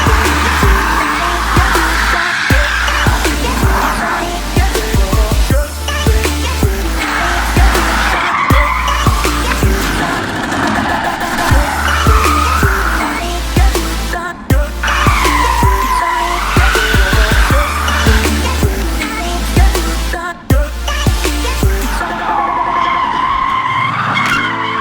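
Tesla Model 3 fitted with a Vorsteiner Volta kit and wide tires drifting on a large open lot, tires squealing and skidding loudly in repeated surges as the motor whines, sound rising and falling with each slide.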